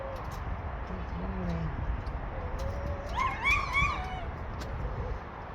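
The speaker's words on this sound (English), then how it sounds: "You can see the dog's quieting down now." A dog whimpers with high, wavering whines and a few yips, rising and louder near the middle, over a low background rumble from indoor work on a crank bearing.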